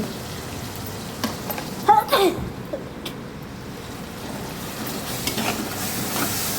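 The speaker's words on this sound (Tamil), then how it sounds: "இஞ்சி பூண்டு பேஸ்ட் போட்டு நல்லா வதக்கிக்கோங்க" Ginger garlic paste sautéing in a hot pan, a continuous close sizzle with occasional stirring clatters and a faint voice-like chirp early on.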